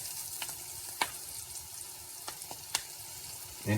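Steady hissing sizzle of lion's mane mushrooms frying in an iron skillet, with scattered pops and crackles and a brief scrape near the end.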